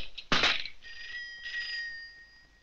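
A telephone rings in an Egyptian comedy film home, a loud bright electronic ring burst followed by steadier high ringing tones over about two seconds, with no talking.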